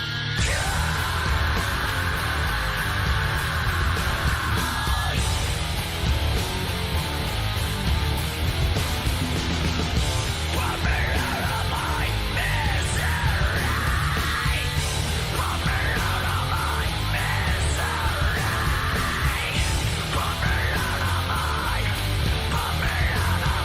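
Loud, dense rock song with screamed and yelled vocals over heavy distorted guitars and pounding drums, playing continuously at full volume throughout.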